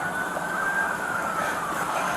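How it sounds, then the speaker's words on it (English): An ambulance siren wails continuously at moderate distance, a sustained high tone holding steady across the whole short stretch with no speech over it. "That's an ambulance."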